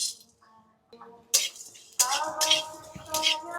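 Whole fennel, coriander, cumin and black peppercorns tipped into a pan for dry roasting, bright metallic clinks and ringing taps of spoon and pan, close and fairly loud in short bursts.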